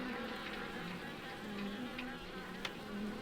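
Soft, steady buzzing of honey bees in a backyard hive, a low droning hum, faint and continuous, like bees massed together.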